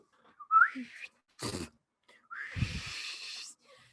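A person whistles a short rising note, followed by breathy puffs and a longer airy, hissing whistle attempt, all close and fairly quiet with no talk.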